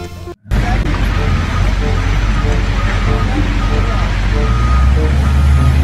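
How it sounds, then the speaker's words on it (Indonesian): A yellow wheel loader's reversing beeps sound over a steady, loud engine and vehicle rumble that continues throughout, briefly cut by a short dropout near the start. "lihat teman-teman, ini mobil wheel loader"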